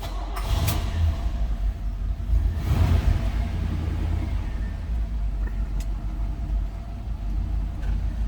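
A 1973 Chevrolet Nova engine cranks and catches, then settles into a steady low rumbling idle with a slightly uneven throb, heard up close.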